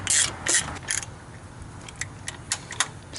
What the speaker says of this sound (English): Once all the bolts are started, you can start torquing them down.